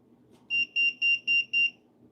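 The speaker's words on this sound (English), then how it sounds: "Why is it beeping? Multimeter's auto shutting off." A multimeter beeps five times in a quick, even series as it auto shuts off, each tone short and bright over a faint low hum.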